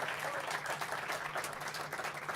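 Brief, faint applause from an audience at a climate-focused Davos hub event, a steady soft patter of many hands clapping at a distance.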